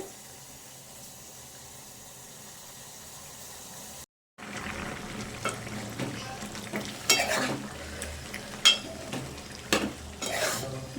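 Green leaf and chicken curry stirred in a pot: a faint steady simmer, a brief cut, then scraping spoon strokes and clinks against the pot over a soft sizzle.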